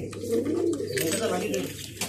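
Pigeons coo inside a town loft housing Madrasi pigeons, a soft, continuous rolling murmur close by, with a person talking over it part of the time.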